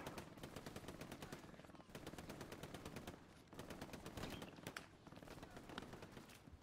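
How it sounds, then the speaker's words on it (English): Sustained machine gun fire in the WWII shooter game Hell Let Loose, long rapid bursts broken by brief gaps, loud and dense with overlapping shots. "I don't know where this machine gunner is."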